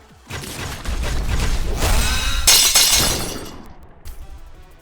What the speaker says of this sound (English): What kind of shattering was that?